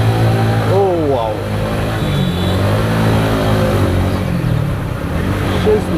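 A TVS Apache RTR 4V motorcycle engine drones steadily while being ridden, a loud continuous mid-pitched hum with wind noise as a rider talks over it.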